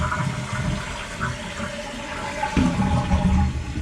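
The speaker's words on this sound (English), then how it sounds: "Go ahead and flush it." A toilet flushes after its tank float has been pushed down for adjustment, giving a steady rushing water sound throughout with a louder gurgling swell near the end.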